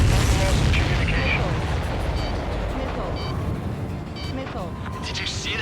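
A missile explodes in the Ace Combat 7 video game, a loud rumbling blast that fades into continuous roaring jet and combat noise, with muffled radio voices underneath.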